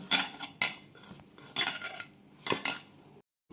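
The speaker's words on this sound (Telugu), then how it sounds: "ఇట్లా బాగా కలుపుకొని ముద్దలాగా రెడీ చేసుకోవాలి." Powdered sugar being worked into dough in a bowl for sweet polelu, giving a few bursts of scraping and clinking of a utensil against the bowl, separated by short pauses, close and moderately loud.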